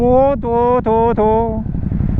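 A Ducati Hypermotard 950 RVE engine revs hard through quick-shifter upshifts. Several rising, rasping pulls are cut by brief gear-change gaps before the engine sound fades, loud and close.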